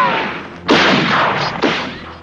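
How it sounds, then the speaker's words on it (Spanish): Shotgun blasts as a sound effect in an Old West setting: a sustained roar with two sharp, loud reports, the second following about a second after the first, then a rumbling tail. "desde la ventana del despacho, Billy el niño disparó su escopeta"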